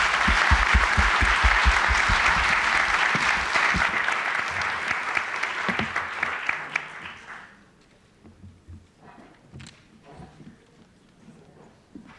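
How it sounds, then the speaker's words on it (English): A conference audience applauds at the close of a mainstage panel, loud sustained clapping that tapers off after several seconds into scattered claps and quiet room murmur. "maybe another round of applause for Tova, Aris, and Houston."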